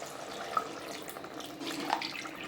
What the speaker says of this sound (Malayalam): ഇതിലേക്ക് ഒരു ഗ്ലാസ് വെള്ളം ഒഴിച്ചു കൊടുക്കാം